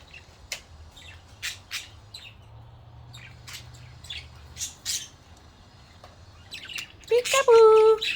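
Budgies outdoors in the sun give scattered chirps and short calls, then a louder burst of squawking near the end, close by.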